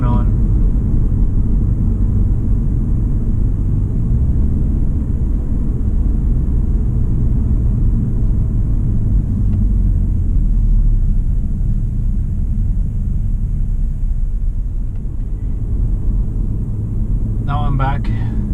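Car running a Stage 1 tune cruising on a road, a steady low engine rumble and road drone filling the whole stretch, with a brief higher-pitched whine near the end.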